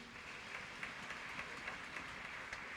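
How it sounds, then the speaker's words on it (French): Rhythmic congregational clapping at a Haitian evangelical worship service, a faint, steady patter with regular sharper claps pulsing through it, heard from a distance in the room. "On applaudit bon Dieu dans la vie."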